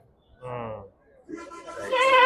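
A goat kid bleats at the Saturday goat market in Ettayapuram, Thoothukudi district. Two close, wavering bleats: a short one, a pause, then a longer, louder, higher cry that rises at the end.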